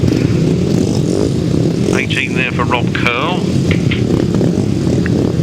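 350cc solo speedway-style motorcycles idle and rev at a grasstrack race meeting, a steady engine drone filling the background while an announcer talks over a public address system.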